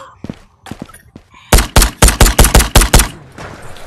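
Gunfire in a raid-style video game: a few scattered soft shots, then a rapid burst of about eight loud, evenly spaced bangs.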